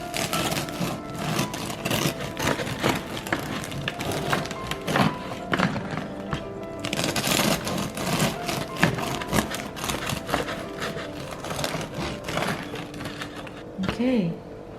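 A knife works through a crusty artisan loaf, with continuous loud crunching and rasping sawing strokes up close, while a person talks over part of the cutting.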